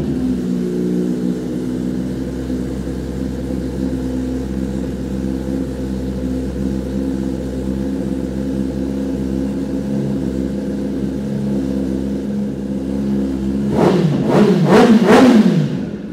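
A used 2018 Benelli 600i superbike idles with a steady, low engine drone, then gives a few sharp, loud throttle revs near the end.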